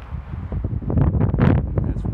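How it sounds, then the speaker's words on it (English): Gusty wind buffets the microphone outdoors, a loud, rumbling low roar rising and falling over a couple of seconds. "it's windy out here today"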